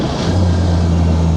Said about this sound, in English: Engine runs nice.